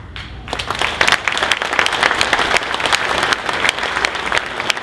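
Dense, steady applause fills a Corvette seminar room, many hands clapping at once for several seconds after a brief quieter start.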